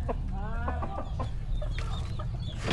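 Chickens clucking and squawking nearby, several birds calling in short bursts over a steady background hum.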